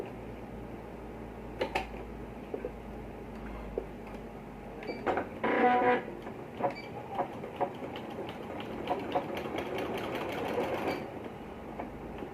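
A sewing machine runs in short bursts as it stitches a button placket strip on a boy's kurta, the needle chattering in quick rhythmic runs, fairly close, with brief stops between bursts.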